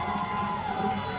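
Crowd at a high school football game, a dense roar of voices shouting and cheering together, loud and continuous throughout the short moment.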